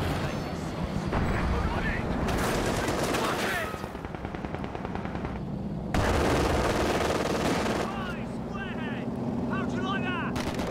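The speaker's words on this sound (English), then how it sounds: "Pick them off with our machine guns." Sustained machine gun fire rattles through a Company of Heroes 2 battle, rapid continuous bursts with a brief break near six seconds, over engine rumble and battlefield noise, while someone talks throughout.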